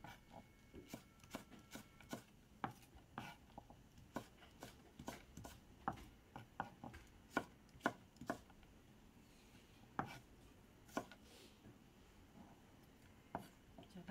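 A knife chops onion into half-centimetre pieces on a board, a quiet, close run of irregular taps with short pauses between bursts, and no talking.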